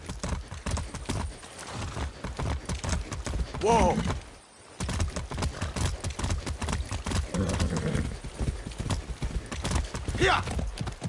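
Horse hooves clip-clopping in the video game Far Cry 6, a rapid continuous galloping rhythm close and loud, with a brief pause and a shouted exclamation and a whinny-like voice partway through.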